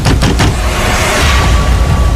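Heavy blows pound on a room door in a horror drama effect, three quick booming thuds up close, followed by a loud roaring wash of noise.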